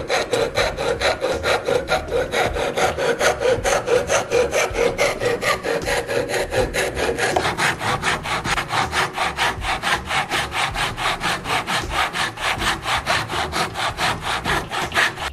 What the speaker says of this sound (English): So just use a tenon saw to get rid of the waste.